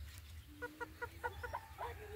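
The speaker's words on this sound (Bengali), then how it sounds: "এই যে আমাদের মুরগি" Village chickens cluck repeatedly in short, quick calls, fairly faint and close together, over a low background hum.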